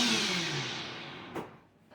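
Water runs from a kitchen tap in a steady rush that fades away, then stops with a short clunk and a faint knock near the end.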